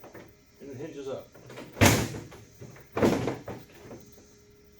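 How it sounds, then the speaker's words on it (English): The hinged lid of an IBC tote used for firewood storage swings open with two sharp, loud knocks about a second apart, close by, while a voice murmurs softly between them. "Whenever you want to get into the tote, you just push the little tab in on each side, and"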